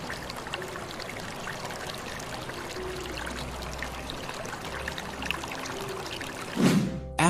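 Water pours steadily into a Panama Canal lock chamber, a continuous rushing, trickling flow heard close and alone, with a brief louder splash or knock near the end.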